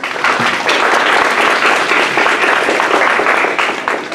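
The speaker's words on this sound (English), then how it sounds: "can we all give them a round of applause?" A round of applause from diners at a fraternity's mental health awareness charity dinner, loud, dense and sustained clapping that holds steady for around four seconds.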